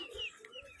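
A chicken gives a few faint, quick clucks, soft and somewhat distant within a brief snatch of farmyard sound.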